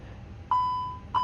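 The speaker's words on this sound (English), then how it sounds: "Now I'm getting beeped at, very nice." Two electronic cockpit beeps from a Fenix A320 airliner in Microsoft Flight Simulator, each a steady clear tone, the first held about a third of a second and the second starting near the end, over a low background hum.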